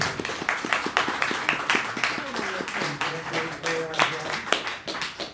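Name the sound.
audience applause at seminar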